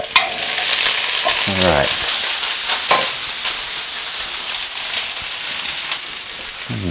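Food frying in hot oil over high heat gives a dense, continuous sizzle from start to finish, with a short spoken remark early on and a few clinks and stirs rising above the crackle.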